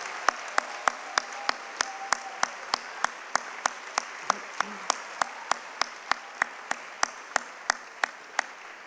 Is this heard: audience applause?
yes